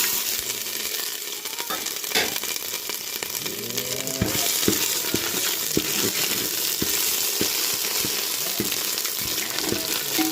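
Whole pulao spices and ginger garlic paste frying in a pan give a dense, continuous close sizzle, broken by a string of sharp spoon taps and scrapes against the pan.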